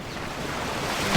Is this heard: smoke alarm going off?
no